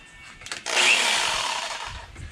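A jigsaw starts up and cuts into the wall of a motorcycle trailer, opening a hole for an air conditioner unit. There is a short knock first, then a loud, steady buzzing cut close by that fades slightly toward the end.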